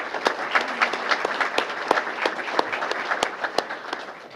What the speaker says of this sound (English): So let's have a round of applause for Hope